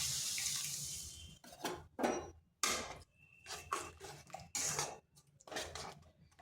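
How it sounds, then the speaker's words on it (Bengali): Two bowls of water poured into a cooking pot for a semolina sweet, heard as a few uneven splashing bursts of running water with brief pauses between them, close and fairly quiet, with no talking. "এরপর এখানে দিচ্ছি 2 বাটি জল, মানে যে বাটিতে সুজিটা নিয়েছি সেই বাটির 2 বাটি জল দিচ্ছি।"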